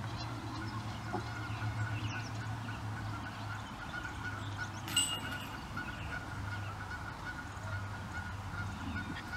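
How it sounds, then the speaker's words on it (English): Geese honk steadily at a moderate distance in a neighboring yard beside a disc golf course, their calls sustained through the stretch against quiet outdoor background noise. "Good to see the geese in the neighbor's yard."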